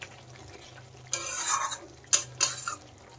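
A spoon scrapes and clinks against a pan while green bean pods are tossed with mustard, raw mustard oil and fresh coriander leaves: one longer stir, then two short sharp scrapes, close by over a low background hum.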